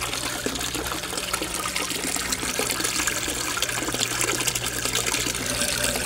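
Aerator pump in a three-foot-deep koi fish pond churning the water, a steady, dense bubbling and splashing wash that stays loud and unbroken throughout, close by with no talk.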